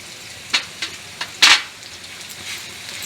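Ginger-garlic paste hits hot oil alongside browning onions, giving several short, sharp bursts of sizzling hiss over a quieter background crackle, the loudest flare coming midway.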